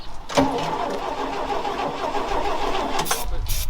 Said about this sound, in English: Okay, go try to turn the key over.